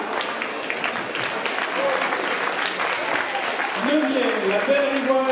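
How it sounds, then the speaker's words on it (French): An audience at a youth team event in the Cusset area applauds steadily for several seconds, a dense even patter of clapping with a voice rising over it toward the end. "Allez, on peut l'applaudir."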